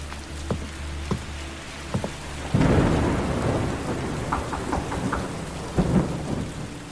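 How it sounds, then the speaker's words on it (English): Thunderstorm with rain falling steadily, scattered drops tapping nearby, and a heavy rolling thunder rumble breaking in midway before trailing off, with no voices. "As I got out of the car, lightning lit up the sky. The trees making a jagged display through the rain."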